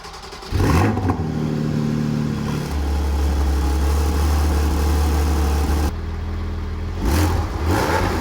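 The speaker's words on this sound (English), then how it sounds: "let's check out the sound of the exhausts. Porsche Cayman GT4." A Porsche Cayman GT4 exhaust, loud and close: a sharp rev surges up, then settles into a deep, steady droning rumble before another brief blip near the end.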